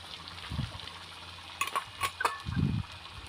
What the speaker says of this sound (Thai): เอาน้ำมันลงไปแล้วก็ผัดเอาเครื่องพริกแกงลงเลยเด้อพี่น้องเด้อ